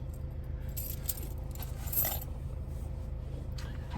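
A bunch of seven keys jangles continuously, with bright metallic clinks and rattles close by and no one speaking.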